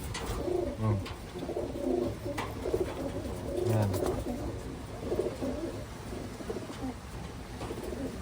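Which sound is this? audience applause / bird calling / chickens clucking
bird calling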